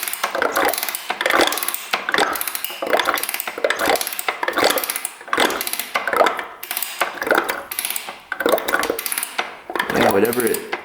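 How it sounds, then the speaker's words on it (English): Water sloshing inside an old dirt bike that last ran 12 years ago, heard as rhythmic, repeated close bursts of swishing and rattling with no talk. "what appears to be water sloshing around"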